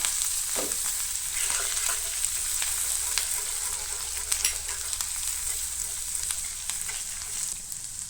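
Ginger and garlic sizzle in hot oil in a pan while cooking masala pav, a steady bright frying hiss with occasional soft scrapes and clicks as they are stirred and mixed.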